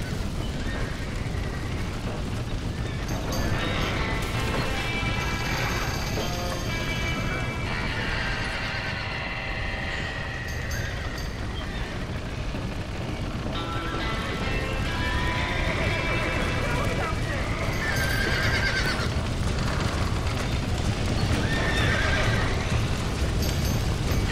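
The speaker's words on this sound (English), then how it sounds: "Somebody get them horses out!" Horses neigh and whinny repeatedly amid hoofbeats and chaotic commotion in the video game Red Dead Redemption, with shouting voices and crackling noise throughout a loud, busy scene.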